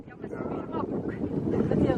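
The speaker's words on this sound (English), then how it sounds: "Oh, the wind is incredible." Strong wind on the Theth-Valbona mountain pass in Albania, a rough low buffeting roar blowing across the microphone in gusts, with voices faintly mixed in.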